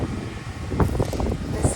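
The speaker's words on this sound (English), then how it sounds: "it's so windy out here" Wind gusting across an outdoor garden buffets the microphone with low, uneven rumbling, and a person speaks briefly beneath it.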